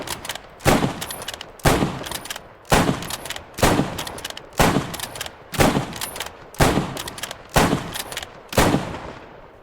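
A WWII British infantry rifle, a Lee-Enfield, fires a rapid string of about nine loud shots in an even rhythm roughly one second apart, each crack followed by a short echo, close by with no talking.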